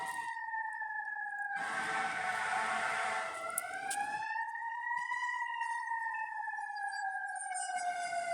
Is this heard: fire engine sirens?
yes